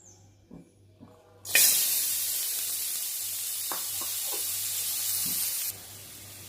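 Cut vegetables hit hot oil in a pan, setting off a loud, steady sizzling hiss that lasts about four seconds before dropping away, after a few quiet taps and a low hum.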